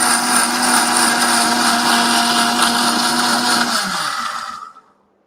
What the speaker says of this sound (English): I'm just going to go on a medium speed, going to grind it and then make a puree out of the blueberry